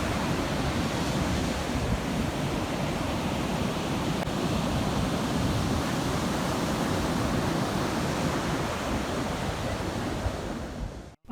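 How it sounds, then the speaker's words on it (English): Heavy surf from Hurricane Larry rolls onto a beach near Ocean City, Maryland, a steady, loud, broadband roar of breaking waves that holds without pause from start to finish, with no voices. "One of the beachgoers told us that these waves were complements of Hurricane Larry"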